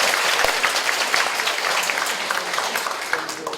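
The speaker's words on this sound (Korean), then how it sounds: "이해되시면 박수 치세요." An audience claps at an Korean housing association briefing, a loud sustained round of applause that fills the whole span.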